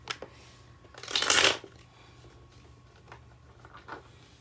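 A deck of tarot cards is shuffled once, close by, in a quick riffling burst of about half a second. A few soft taps and rustles of handling come before and after it, with no talking.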